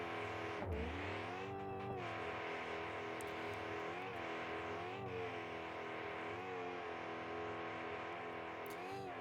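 Off-road race truck engine in a BeamNG Drive Baja desert race, revving loudly and continuously with rising and falling RPM as the throttle changes, steady and close with no talk.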